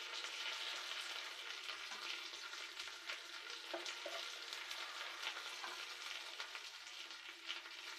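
Khoira fish being fried with curry leaves in a pan, making a steady, close hiss of sizzling oil with light stirring scrapes throughout, no voices.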